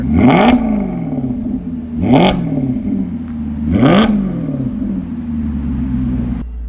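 A 2018 Maserati GranTurismo MC engine revs hard three times in a row with the exhaust open, each blip rising sharply and falling back to a throaty idle, loud and close.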